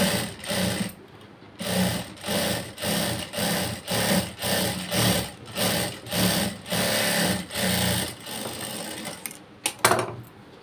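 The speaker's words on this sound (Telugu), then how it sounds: "ఇప్పుడు దీని మీద డబుల్ కుట్టు వేసుకోవాలి." A sewing machine puts a double stitch on cloth, running in a series of short, even bursts with brief pauses between them, close and clear with no talk.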